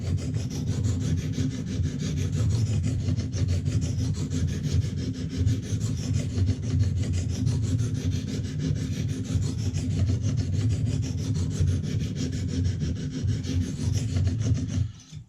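Steady rhythmic rasping strokes of a knife blade sawing back and forth across a Lansky sharpener's abrasive stone, close and continuous, stopping abruptly at the end.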